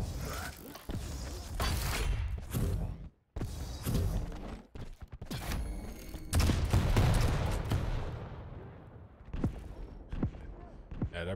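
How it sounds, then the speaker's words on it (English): Rapid gunfire in a Quake-style arena duel, bursts of shots with rocket blasts and item pickups crackling almost continuously, loud and dense, with brief gaps; a commentator talks over the action. "They're both shooting at the corner"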